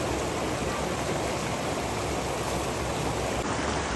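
A mountain stream of icy snowmelt water near Marrakesh, Morocco, rushes past close by as a loud, steady, hissing flow with no pauses.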